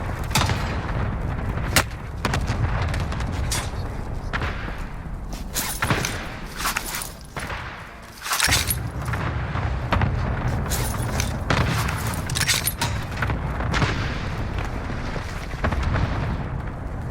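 Gunfire in the Call of Duty: Warzone video game: repeated sharp shots and bursts with booming impacts, nearly continuous over a dense, loud battle background, one brief lull midway.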